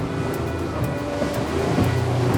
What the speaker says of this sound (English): So I'm going to pop her up onto the plane.